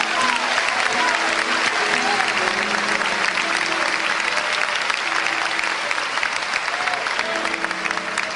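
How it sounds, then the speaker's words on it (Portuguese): A church congregation at an Assembleia de Deus service in Brazil applauds loudly and continuously, dense clapping filling the room while voices cry out and a sustained tone hums beneath. "Vamos aplaudir a Deus pela vida dele."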